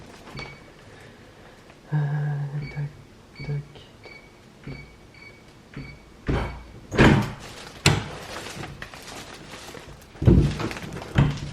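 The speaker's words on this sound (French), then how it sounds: "Porte qui n'ouvre pas apparemment." An apartment door in Japan is tried but won't open: a series of clunks, rattles and thumps from the handle and frame, quiet at first and then louder, close by with light room noise between.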